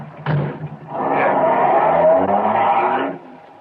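A late-1940s car starts up and pulls away, its engine rising into a steady, loud drone after a door thump, close by with no speech over it, in an old radio crime drama.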